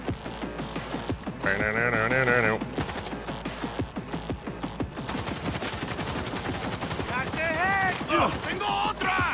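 Gunfire in Cyberpunk 2077, with loud sustained rapid bursts of automatic fire and chattering shots throughout, mixed with game sound effects and tonal electronic tones.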